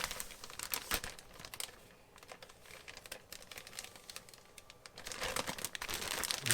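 A sealed plastic bag holding flank steak and cornstarch is kneaded and worked around, giving close, busy crinkling and crumpling that eases briefly then picks up louder.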